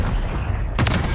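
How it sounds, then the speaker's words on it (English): A car explosion in a Call of Duty match: a deep booming blast bursts in near the end, loud and broad over a constant rumbling game mix, with no voices. "Finally got that car explosion."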